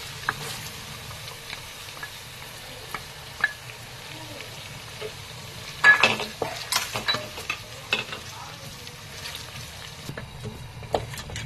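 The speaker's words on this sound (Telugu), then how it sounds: "ఇప్పుడు మనం మిక్సీకి వేసుకున్న కొబ్బరి, ఇదంతా కూడా టమాటా, పచ్చిమిర్చి అన్ని కలిపి వేసుకున్నది ఇదంతా కూడా వేసేస్తున్నాను" A ground paste of coconut, tomato and green chilli sizzles steadily in a pan while being stirred, with a low continuous fry, scattered clicks and pops, and a louder burst of scraping around the middle.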